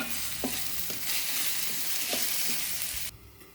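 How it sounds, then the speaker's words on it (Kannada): Onions and green chillies sizzle steadily in a hot pan while a spatula stirs with a few soft scrapes, then the sizzling cuts off suddenly. "ಈಗ ಈರುಳ್ಳಿ ಫ್ರೈ ಆಗ್ತಾಯಿದೆ"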